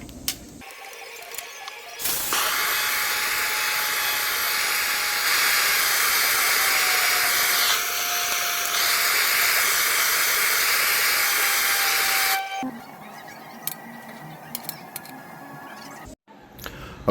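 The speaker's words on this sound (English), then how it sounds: "I'm going to sear these with a torch to give them that crust" A kitchen torch roars steadily for about ten seconds as it sears sous vide boneless pork chops on a grill, a loud broadband hiss that starts and stops abruptly, with quieter clicks and rustling before and after.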